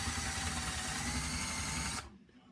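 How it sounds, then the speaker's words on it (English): A power drill runs steadily at full speed countersinking a screw hole in a broken chair, its loud whirring motor close by, then it cuts off abruptly near the end. "we're going to countersink just a little bit"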